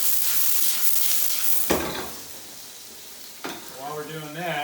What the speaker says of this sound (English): So we'll get that garlic in there. Saute up a little bit.